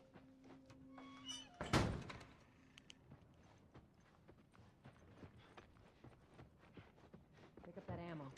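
A door thuds shut in The Last of Us, a solid close slam followed by scattered footsteps and small clatters, with talking at the start and again near the end.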